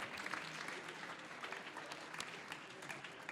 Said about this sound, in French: On peut les applaudir parce que c'est quand même pas facile.